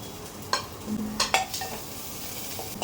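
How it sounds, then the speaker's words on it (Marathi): Onion frying in a little oil until brownish and caramelized: a low steady sizzle broken by a few sharp clinks and scrapes of a spoon stirring against the pan, close by and without speech. "शेवटचं फ्राय करूया ऑनियन."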